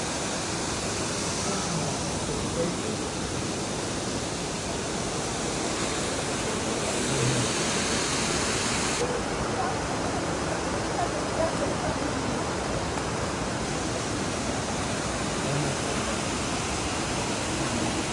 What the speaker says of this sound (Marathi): धबधब्याच्या या तिसऱ्या टप्प्यावर आम्ही आलेलो आहोत.